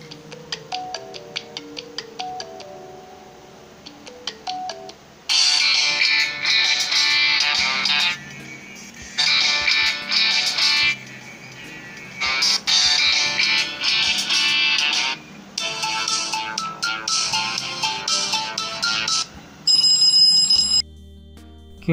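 Ringtone melody played through the single right-side loudspeaker of a Qmobile Noir Z14 smartphone, opening with a soft tinkling phrase before loud bright bursts repeat in several blocks with short gaps, ending in a few electronic tones.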